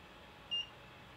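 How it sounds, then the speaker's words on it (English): A sous vide cooker gives one short, clean electronic beep as it is switched on, alone over faint background hiss. "And now let's switch on this sous vide."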